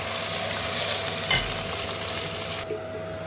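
Onions and garlic fry in a pan with a steady close sizzle, a brief spatula stir scraping midway, and the frying level dropping slightly near the end.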